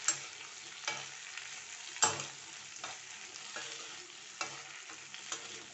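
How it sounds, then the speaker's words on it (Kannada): Sliced okra frying in hot oil in a pan, a soft continuous sizzle broken by several scraping stirs, close and fairly quiet with no talk. "ಈ ಆಯಿಲಲ್ಲಿ ಸ್ವಲ್ಪ ಫ್ರೈ ಮಾಡ್ಕೊಳ್ಬೇಕು ಬೆಂಡೆಯನ್ನು."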